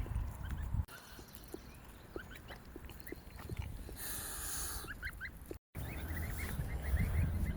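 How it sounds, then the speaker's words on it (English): Little ducklings peep and cheep close by at a carp fishing spot, a scatter of high, soft, brief calls over a rustling outdoor background, with a short gust of wind or rustle midway. "Being infested with these little ducklings"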